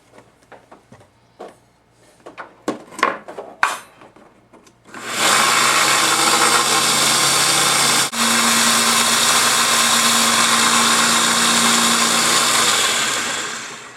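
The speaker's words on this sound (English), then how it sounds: "Belt sander!" Belt sander running on wood in a workshop, with a few knocks and handling clicks first, then a loud continuous abrasive whir that dips briefly midway before running on.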